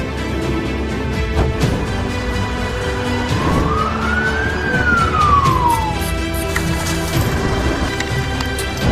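An emergency ambulance siren in Azerbaijan sounds one rising and falling wail that swells over a steady rumble of background noise, with no voices.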